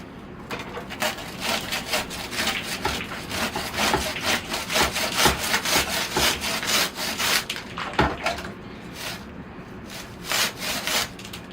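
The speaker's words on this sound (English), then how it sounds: "I'm not sure where I should be sawing, maybe about here, I think. So here I go." Steady back-and-forth strokes of a hand saw cut through the roots of a large red maple bonsai, rhythmic and close, with a brief pause partway through.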